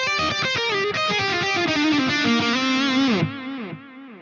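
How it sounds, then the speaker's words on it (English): Electric guitar through a Friedman amp plugin on a Hero lead preset, a fizzy, mid-scooped distorted lead line of fast picked notes bending downward, with delay repeats trailing out after the playing stops. "one of the presets that I really like is the Hero lead, because it's that typical like super mid-scooped, kind of fizzy lead tone that cuts through the mix straight away"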